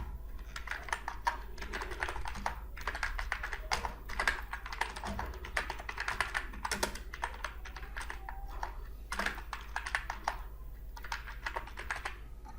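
Computer keyboard keys are tapped while names are entered into an Excel spreadsheet during macro recording, a fast, continuous run of close, light clicks over a low steady hum.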